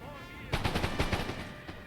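Rapid musket volleys fire at enemy hussars in the Napoleon Total War video game, a cluster of sharp cracks rattling in quick succession for about a second, then a single later shot, fairly loud against a faint background hum.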